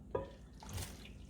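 Dissolved sugar syrup pours into a mango sorbet mixture, a short, faint liquid splash and trickle in a quiet kitchen.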